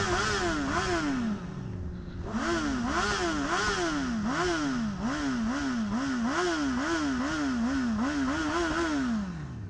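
Sport motorcycle engine, a GSX-R 750 or Honda CBR1000RR, revved repeatedly in traffic, loud and close, with rising and falling pitch sweeps after a brief pause.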